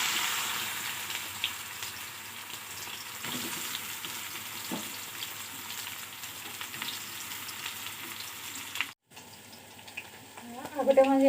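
Bitter gourd frying in a pan for a fish curry with spinach, a steady soft sizzle running alone throughout, with a brief gap near the end followed by louder stirring and spattering.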